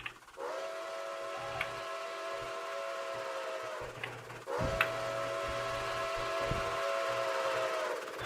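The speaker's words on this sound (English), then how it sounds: "As a train comes through, we'll be hearing the whistle." A steam locomotive whistle, Nickel Plate Road 765, sounds in two long sustained harmonic blasts, the second starting around the midpoint, steady and fairly loud over low rumble with no voices.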